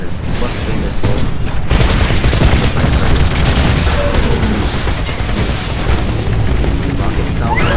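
Rocket salvo explosions in the shooter game Titanfall: a dense, loud, continuous barrage of booming blasts and crashing impacts lasting throughout, with no talk over it.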